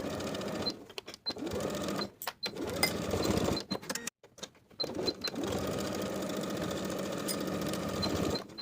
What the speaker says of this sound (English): We're going to top stitch straight across both of the bib facings from one side to the other, right along our finishing stitches.